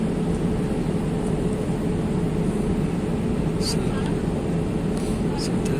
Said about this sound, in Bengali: আমাদের বিমানটা এত স্পিডে চলতেছে মনে হয়